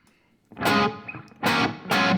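Electric guitar played through a reverb pedal, sounding as three loud, washy strummed bursts separated by short gaps, each with a long shimmering tail and some distortion, with no voices present.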